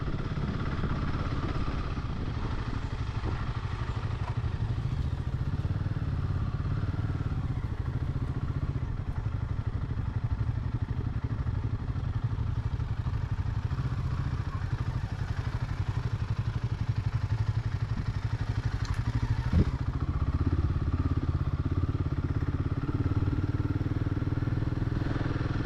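A Royal Enfield Himalayan 450 motorcycle riding off-road on a breakfast ride, a steady low engine drone with wind rumble and occasional clattering bumps, continuous and fairly close throughout.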